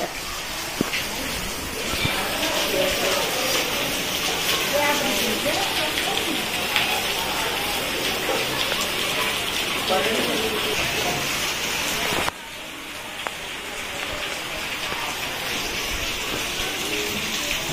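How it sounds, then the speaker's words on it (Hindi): Sudden heavy rain pouring at night onto a flooded street in Porbandar, a dense, loud, steady hiss of drops hitting the surfaces, which drops in level near the end while a voice speaks briefly. "जोरों शोरों से बाहर बारिश हो रही है, पूरी स्ट्रीट में पानी पानी हो गया है"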